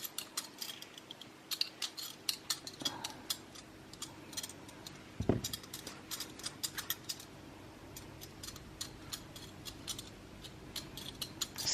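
A bar of cold process soap has its edges trimmed in a quiet room, giving faint, scattered scraping clicks and soft cutting ticks with one slightly louder thump midway.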